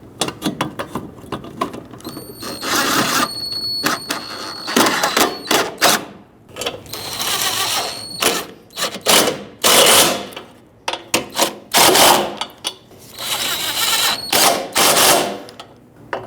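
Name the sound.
fastening bolts on Honda Civic bumper impact absorber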